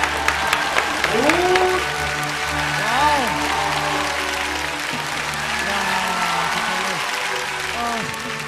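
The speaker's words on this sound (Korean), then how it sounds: "네 분께 다시 한번 큰 박수 부탁드립니다" Audience applause for figure skaters on a Korean ice-show scoring segment, steady clapping throughout under music and a talking voice.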